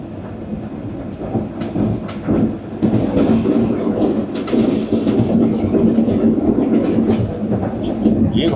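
A passing train on the Pakistani main line between Lahore and Karachi rumbles loud and close, a steady heavy roar with rhythmic clatter building and holding throughout.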